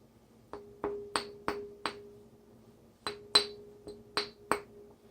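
A glass Great Value 100-watt-equivalent LED light bulb is tapped in two bursts of five sharp, ringing clinks each, crisp and close with short decays and nothing else heard.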